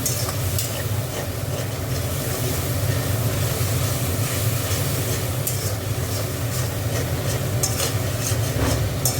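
Spices for an egg curry stir-fried in a pan, a steady close sizzle with scraping stirring that carries on unbroken throughout, with no voices.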